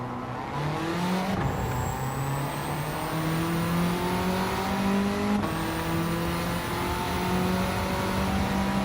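A race car engine in the video game Gran Turismo 7 drones loud and steady, its pitch climbing repeatedly through gear shifts with brief drops between, no voices over it.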